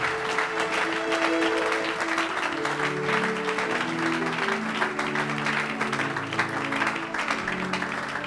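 A church congregation at a Sunday service claps steadily for Jesus. The dense, continuous applause holds loud and even throughout, with a few voices and music faintly beneath it.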